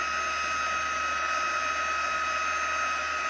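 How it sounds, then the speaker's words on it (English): A heat tool blows steadily to heat-set ink on a handmade card, a constant loud whirring hiss with a strong tonal hum, unbroken and close throughout with no talking. "So let me just, I'm going to heat set it."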